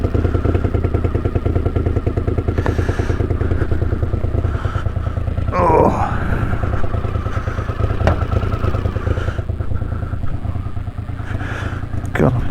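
A 1981 Honda CX500 motorcycle engine idles nearby. It gives a loud, continuous, throbbing putter with occasional mechanical clatter and knocks over the steady run.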